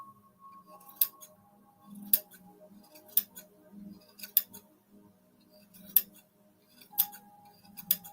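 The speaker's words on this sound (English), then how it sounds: "These are fabric scissors, don't worry." Fabric scissors snip through fiber sharply about once a second, each crisp metallic cut standing out against a quiet room with faint low hum.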